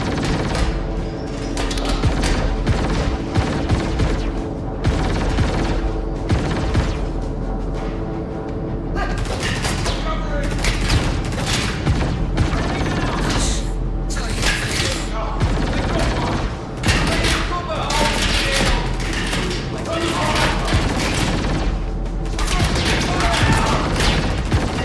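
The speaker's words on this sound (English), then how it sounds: "That grenade may have finished me." Gunfire and grenade blasts in the video game Star Citizen: dense, rapid bursts of shots and heavy booms crackling almost nonstop, loud and close throughout.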